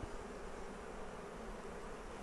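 Honey bees buzz at a Flow Hive during a colony split, a steady dense hum that holds at an even level throughout, close and continuous with no voices.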